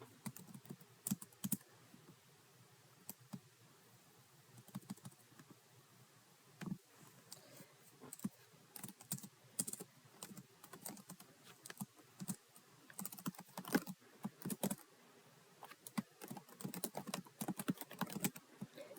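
Rapid, uneven clicking of keys as code is typed on a computer keyboard, a steady close-up clatter with short pauses and no voices.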